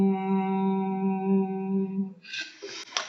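A steady sung hum held for about two seconds during a voice therapy exercise following straw phonation, then breaking off into breathy, noisy sounds.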